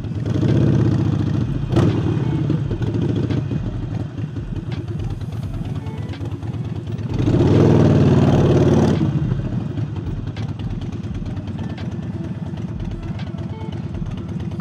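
Harley-Davidson 48 motorcycle with a new air intake riding through city traffic, its loud, lumpy V-twin rumble running throughout, swelling briefly in a revving surge midway.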